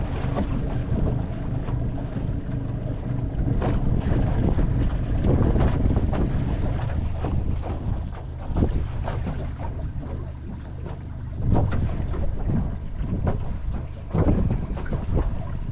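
Strong wind buffets the microphone on a small fishing boat out on the water, a loud continuous low rumble with gusty surges and occasional knocks over the whole stretch.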